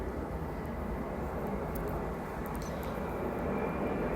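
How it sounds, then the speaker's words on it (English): An airplane passes overhead as a steady, moderately loud engine roar and broadband rumble that holds for about four seconds without fading, with no speech. "with every plane that passes by"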